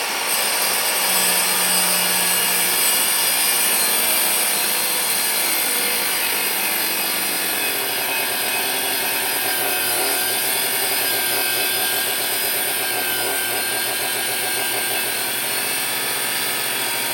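A saw grinds steadily through a piece of fossilized rock clamped in a vise, a continuous loud rasping cut that holds for the whole stretch with no talk over it.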